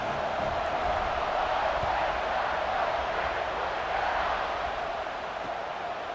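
A large stadium crowd roars steadily before kickoff of a college football game, South Carolina at Ohio State, a dense, continuous wash of distant voices holding at one level throughout.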